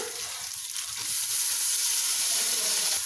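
Spices, cardamom, garam masala, coriander and mint sizzle steadily in a hot pan, a dense close frying hiss that grows slightly louder and keeps going without any talk.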